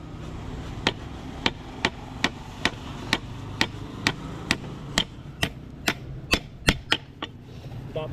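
Steady hammer blows while repairing a tricycle seat, about a dozen evenly spaced sharp knocks, fairly close with a quiet background.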